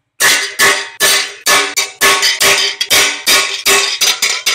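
A hammer strikes a chisel to bore a 2-inch hole, about a dozen loud, firm, ringing blows in a steady rhythm, close and without talking.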